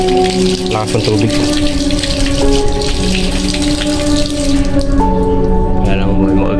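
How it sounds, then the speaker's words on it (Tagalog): Strong flow of running water pours in a loud, continuous rush from start to end, close by, with tonal ringing and voices talking over it. "Lakas ng tubig."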